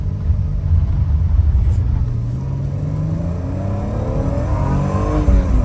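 A 1988 BMW 325is E30 with a five-speed manual pulls hard through the gears, its engine note rising steadily in pitch under a constant rumble, heard close from inside the car with no talking.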